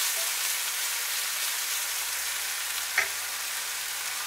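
Artichokes cook in a pan with a steady, even sizzle of hot fat, close by and unbroken, and one light clink of a utensil against the pan.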